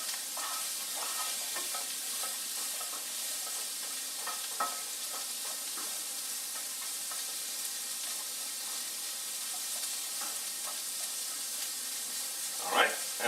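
Vegetables with garlic fry in a pan for an osso buco-style chicken dish, a steady close sizzle and hiss with occasional stirring scrapes and small crackles.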